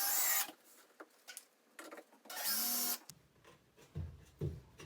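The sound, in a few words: drill driving screws into a wall cabinet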